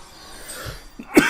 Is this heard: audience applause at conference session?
no